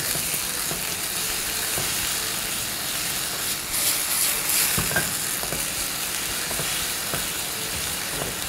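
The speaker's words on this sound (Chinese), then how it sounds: "下入我们切好的番茄粒。 开最大火慢慢去炒它，" Diced tomatoes stir-fried over the highest heat in a wok, a steady loud sizzle running the whole time with periodic scrapes and clacks of the spatula.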